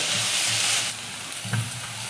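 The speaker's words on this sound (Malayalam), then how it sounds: "കൂടെ തന്നെ നമുക്ക് തേങ്ങക്കൊത്തും ചേർത്ത് കൊടുക്കാം ഇതെല്ലാം ഒന്ന് മൂത്ത് വരട്ടെ" Onion and small coconut pieces frying in a pan for a clam meat fry, an even close sizzle that eases slightly partway, with a soft stirring knock in the middle.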